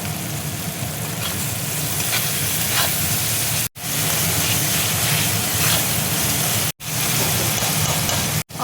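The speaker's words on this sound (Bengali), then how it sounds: "এবার দেখো টমেটো কুচি দিয়ে দিচ্ছি। আন্দাজ মতো দেখো নুন দিয়ে দিচ্ছি।" Chopped tomato and salt fry in a hot pan for a mushroom matar masala, a loud, continuous close sizzle broken by a few abrupt short gaps.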